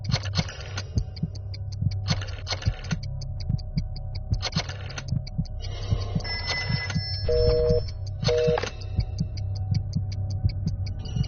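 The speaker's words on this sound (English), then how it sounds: "Dial one of these numbers on your rotary phone before anyone else" Rotary phone dialing in a Jackbox party video game: a steady run of rhythmic clicking pulses over a low hum, with brief electronic tones near the end.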